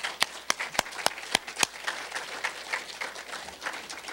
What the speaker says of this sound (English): So again, one big round of applause for all of our presenters.